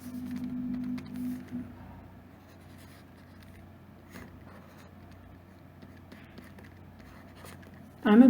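A pen drawing in Paint Tool Sai makes faint, soft scratching and tapping strokes over a low steady hum, and a brief louder burst at the end.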